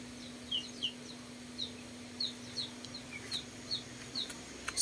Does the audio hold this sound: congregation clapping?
no